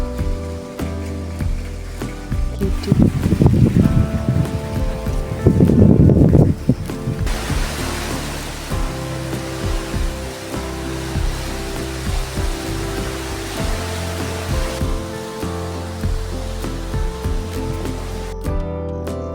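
Steady rain falls over a village in Chamba, Himachal, a soft continuous hiss that carries through the whole stretch, with a brief louder patch early on and a few quiet spoken words.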